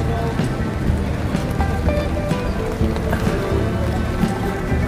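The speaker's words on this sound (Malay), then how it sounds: "masih hujan tengok." Steady rain pours outdoors on arrival near the KLCC tower in Kuala Lumpur, a dense continuous hiss and patter filling the whole stretch at even loudness, with no clear voices.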